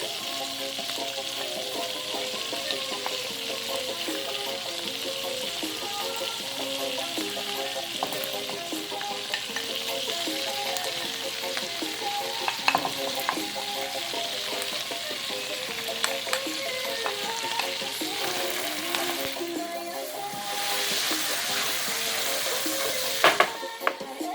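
Garlic sizzles in melted butter in a pan, alongside squid, with a steady, bright crackle that runs on throughout and occasional clinks and stirring knocks from utensils against the pan.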